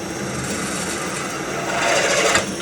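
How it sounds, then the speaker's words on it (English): Continuous grinding, rasping whir of a drill cutting into a tube held horizontally in a jig, steady and close, growing slightly louder near the end. "Drill."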